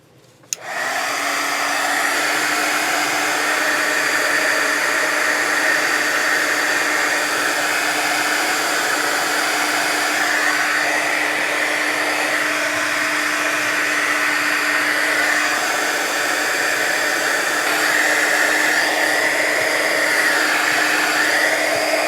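A hair dryer switches on and blows loudly and steadily at close range to dry marbled milk paper, a constant whirring roar that lasts the whole time with no talking.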